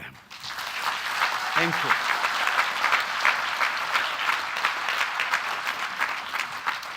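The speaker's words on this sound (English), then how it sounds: "Let us applaud all of them." Sustained applause from a graduation audience honoring doctoral and master's degree awardees, a dense steady patter of many hands filling the hall for several seconds, with a brief spoken word from the podium near the start.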